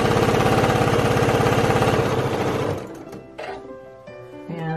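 A sewing machine stitches a face mask in a loud, steady close whir that slows and stops partway through, followed by softer clicks and handling noises.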